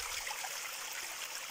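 Waterfall at Loch Ness heard up close, a steady broadband rush of falling water with no pauses, continuous and fairly loud throughout.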